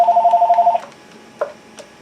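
A telephone rings with a steady electronic double tone for under a second, loud and close, then cuts off, leaving quiet room noise and a couple of faint knocks.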